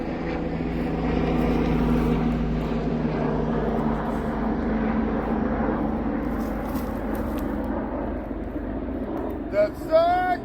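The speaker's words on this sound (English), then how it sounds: "Helicopter!" A low rumbling engine drone hangs steadily in the air, like a helicopter passing overhead, with a voice breaking in near the end.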